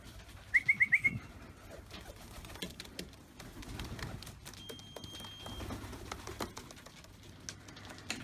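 Racing pigeons fly in from a distance, with a brief burst of cooing near the start followed by faint chirps over an outdoor background hum. No one speaks.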